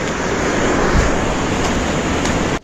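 Loud, steady rushing of heavy monsoon rainwater flowing past, a broad continuous roar close by that cuts off abruptly at the end.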